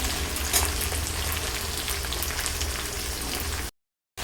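Chopped tomato frying in a pan gives a loud, continuous close-up sizzle that runs unbroken, then cuts to a brief silence near the end before resuming.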